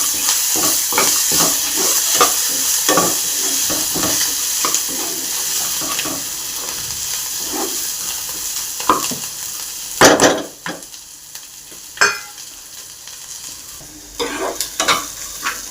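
Onions and coriander frying in a pan for poha, a steady sizzle broken by repeated scraping stirs of a spoon, with a few sharper clanks near the end and no talking.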